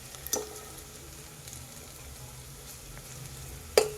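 Green chili frying in a pan for almond soup, giving a faint, steady sizzle with two sharp clicks of a utensil near the start and end.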